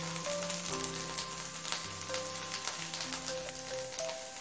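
Okra with turmeric fries in a pan with a soft, continuous crackling sizzle, faint and even throughout. A steady tonal hum runs underneath, and no one speaks.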